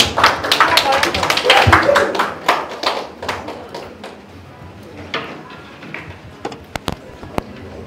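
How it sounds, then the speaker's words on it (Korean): An audience at a citizens' participatory budget committee general assembly bursts into clapping that gradually thins to scattered claps, with people talking in the background. "박수 부탁드립니다."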